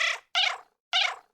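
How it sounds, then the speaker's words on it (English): Three short, bright cat meows spaced about half a second apart, each one clear and isolated against silence. "How hard is it to just get a simple meow sound effect?"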